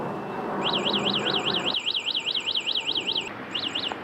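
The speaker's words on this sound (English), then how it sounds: "Incredibly, the bike has an alarm." Anti-theft alarm on a DYU A1F full folding e-bike sounds loud and close: a rapid warbling electronic whoop repeats steadily for about three seconds, pauses briefly, then resumes with a couple more cycles.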